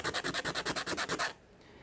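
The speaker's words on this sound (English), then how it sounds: "so what I would do is take a small piece of sandpaper." Medium grit sandpaper rubs back and forth over the end of a small wooden dowel in about ten quick, even strokes, close and clear, then stops, leaving near silence.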